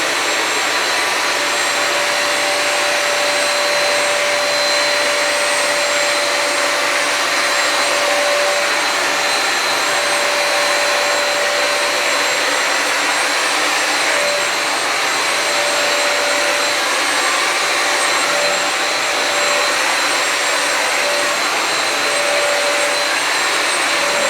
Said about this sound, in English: the vacuum mode did a lot better job than I thought it was going to do